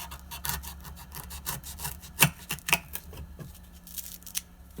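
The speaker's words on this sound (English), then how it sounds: "I'm gonna chop this sponge down just a bit." A kitchen sponge is trimmed down for a stained glass grinder: a scattered series of soft, close rubbing and cutting strokes, with a couple of sharper clicks midway and no talking.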